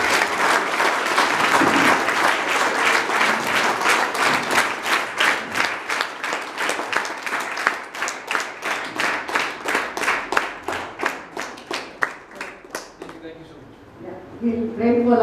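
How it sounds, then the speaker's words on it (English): A school audience applauds a guest speaker with loud, dense clapping that settles into slower, rhythmic claps and then dies away, followed by faint voices. "Shall we all thank Mr. Bobby once again with a big round of applause?"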